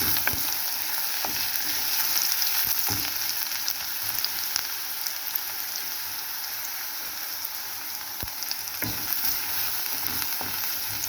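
Onions sizzle steadily in sesame oil in a pan for a Tamil pepper curry kolambu, a dense even frying crackle with occasional soft stirring clicks.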